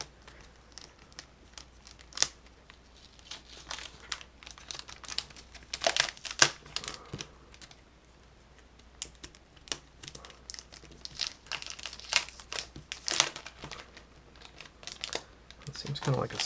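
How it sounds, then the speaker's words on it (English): Protective plastic peeled off a new 2019 Dell XPS 13 7390 Developer Edition laptop, with close crinkling and tearing bursts scattered between pauses while a person talks. "this is one of the most satisfying things, is taking off this plastic"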